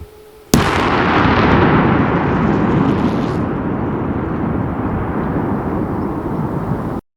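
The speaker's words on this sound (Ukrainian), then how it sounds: "сапери дистанційним шляхом здійснили знищення ракети за допомогою накладного заряду вибухівки" A sudden loud blast from a controlled detonation of an unexploded Russian Kh-59 missile in a forest, followed by a long, roaring rumble that fades slowly over several seconds.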